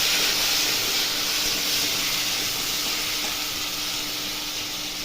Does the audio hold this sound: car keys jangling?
no